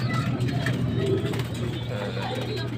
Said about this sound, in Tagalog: Nandito na naman po tayo sa ating mga alagang kalapate. Ayan po ang ating mga young bird.